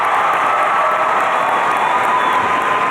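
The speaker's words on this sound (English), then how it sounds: "Let's give a round of applause to the Master of Health Administration graduates" An audience at a USC Price 2023 commencement ceremony applauds the Master of Health Administration graduates, dense sustained clapping with some cheering throughout.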